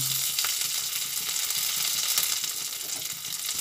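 Whole garam masala, bay leaves and ginger frying in hot oil, a dense, loud, even sizzle filling the whole stretch with no voices.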